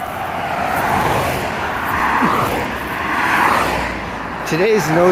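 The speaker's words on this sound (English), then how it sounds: "noisy traffic is brought to you by the letter E" Noisy road traffic on a street during a walk, cars whooshing past in waves with a steady engine roar, fairly loud and close, and a brief tonal warble near the end.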